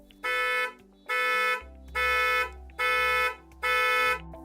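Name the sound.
Hyundai IONIQ 5 horn sounding via Bluelink remote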